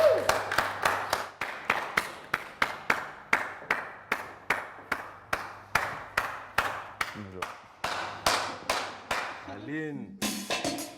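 Sharp, rhythmic clapping rings out in a steady beat, like a small television studio audience applauding in time, with brief vocal sounds near the end.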